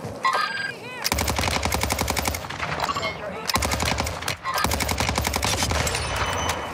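Rapid automatic gunfire in Warzone, loud bursts of machine-gun shots hammering in quick rhythmic strings with brief pauses between volleys.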